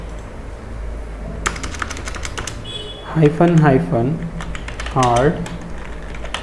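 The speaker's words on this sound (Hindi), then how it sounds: "तो अब हम यहाँ पे लिखेंगे git reset" Fingers type a git reset command on a computer keyboard in quick bursts of clicking keys while someone speaks close by.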